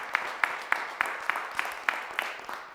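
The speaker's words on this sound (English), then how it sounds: "So a round of applause for our sponsor there on Niagara Falls Boulevard." Sparse, evenly spaced claps, about ten sharp hits in under three seconds, from a small audience at a cosplay event honouring a TV store sponsor on Niagara Falls Boulevard, close and fairly loud against a quiet background.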